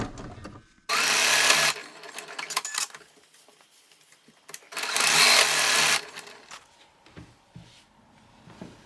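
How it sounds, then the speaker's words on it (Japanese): A domestic sewing machine stitches a trouser pocket opening and bastes the seams in two loud bursts, each about a second long, with quiet handling of fabric in between. "ポケット口にステッチを入れて、上と脇をパンツの本体に仮縫いしよう。"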